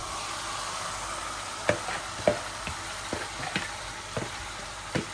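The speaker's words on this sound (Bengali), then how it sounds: "এখন আমি চিকেনগুলা ঢেলে দিচ্ছি" Raw chicken tipped into a pan of fried onions, crackling into a steady sizzle with scattered sharp pops and clinks of a utensil, no talking over it.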